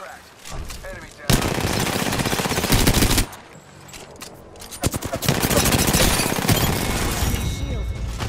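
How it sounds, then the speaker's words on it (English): Automatic weapons fire in the battle royale shooter Apex Legends, with sustained loud bursts of rapid gunshots, a brief lull, then more heavy continuous firing and impacts. "Shot fired."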